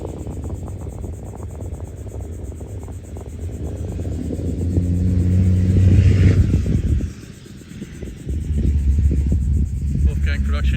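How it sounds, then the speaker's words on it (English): Thunder rolls during a storm over a Palm Beach lagoon, a low rumble that swells midway and then fades, with chirring insects and people talking throughout. "did you hear the thunder?"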